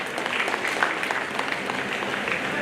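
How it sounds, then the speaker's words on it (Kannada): A seated crowd at a felicitation ceremony for talented students held by a Bengaluru city transport employees' association gives a soft, steady round of applause, many hands clapping at a moderate distance without pause. "ತಮ್ಮೆಲ್ಲರ ಚಪ್ಪಾಳೆ ಬರಲಿ"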